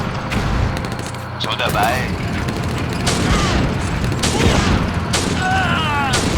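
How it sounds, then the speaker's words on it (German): Enemy gunfire and shelling rage without pause in the WWII strategy game Blitzkrieg Anthology during a desert battle: dense bursts of shots and booming impacts with mechanical clatter, loud and continuous, while someone speaks German over it. "Der feindliche Beschuss."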